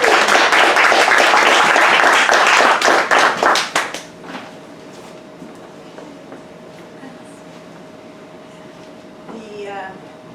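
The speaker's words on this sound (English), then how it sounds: "A round of applause for Lisa." Audience applause at a writers' reading showcase, a loud burst of clapping that thins out and fades after about four seconds, leaving a quiet room with faint scattered sounds.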